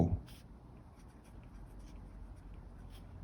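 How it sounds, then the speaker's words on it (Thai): A pen or pencil scratches steadily on paper as notes are written during a maths lesson, a soft, continuous scribble close by, with faint sounds of the room around it. "เรามาเขียนก่อนก็ได้นะ"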